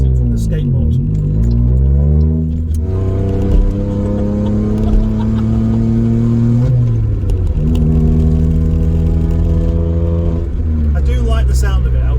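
A modified Citroën C1 car on a test drive, its engine droning loudly and steadily from inside the cabin, pitch rising and falling as it accelerates and changes gear, with some light rattling throughout.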